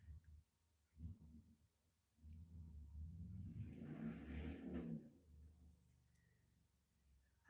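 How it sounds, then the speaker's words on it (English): A noisy car passes outside, first a faint rumble, then a louder swelling engine roar over a few seconds as it goes by, which fades away to quiet room tone. "That was a noisy car out there."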